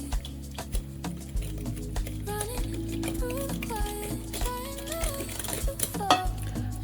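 A spoon stirs orange juice and sugar in a bowl, tapping and scraping against the sides in steady, close clinks with faint kitchen background.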